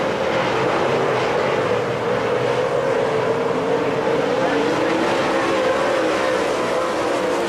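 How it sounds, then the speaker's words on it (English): Late model race cars roar around a dirt track at Springfield Raceway, a sustained loud engine drone with a steady pitch that drifts slightly, under faint announcer talk. "Here comes the number 32 car."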